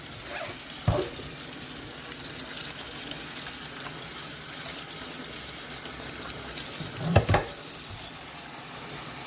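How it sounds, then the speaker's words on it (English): Cold tap water runs in a steady, gushing stream while cucumber slices for bread and butter pickles are rinsed in a home kitchen, with a couple of brief clunks from handling the bowl or slices. "Just rinse them with some cold water."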